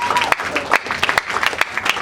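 Close, uneven clapping from a small conference audience during an award presentation, with sharp individual claps spread unevenly through a short burst and a few voices underneath.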